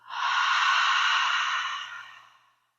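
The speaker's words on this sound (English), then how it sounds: "Exhale, open mouth." Single long open-mouth exhale during a breathing exercise, a close, breathy rush of air that swells quickly, holds steady, then fades out gradually into silence.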